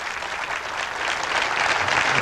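Crowd applause breaking out for a pool jump shot at the 1991 World 9-Ball Championship, a steady, dense wash of clapping from a large audience that swells slightly toward the end, heard alone without talk.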